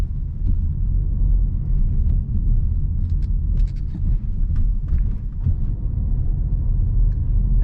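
Inside a 2018 Volkswagen Tiguan Comfortline SUV on the move, a steady low road rumble fills the cabin, with occasional light bumps and ticks over the drone and no talking.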